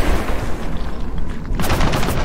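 Dense, sustained automatic gunfire from a machine gun nest in the shooter game Gears of War 4, loud and continuous with sharper bursts toward the end, heard alone without talk.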